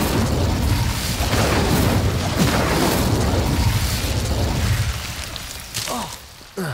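An Incendio fire spell in Hogwarts Legacy roars with a dense, booming whoosh of flame that stays loud for several seconds, then thins out, leaving a couple of short bursts and a faint voice near the end.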